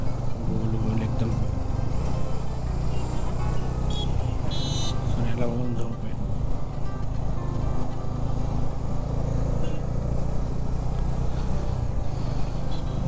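Dense city road traffic rolls past a rider on a motorcycle heading from Mumbai toward Ratnagiri, with a constant low engine and road rumble, scattered horn toots and someone talking over it.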